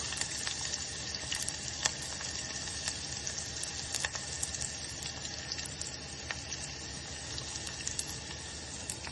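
Peanuts and green chillies frying in oil in a pan, a dense, constant crackling sizzle close up with faint ticks throughout and no talk.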